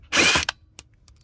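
A power drill whirs in one short burst, loosening a screw from an interior panel of a 2008 BMW 328i. Light clicks and taps of handling follow.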